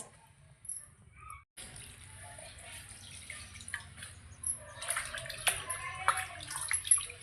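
Pieces of fish being washed by hand in water in a kitchen, heard as gentle sloshing, splashing and dripping after a brief quiet start. The water grows busier and more irregular toward the end.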